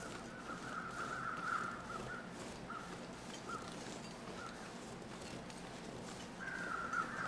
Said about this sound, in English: the crows circling something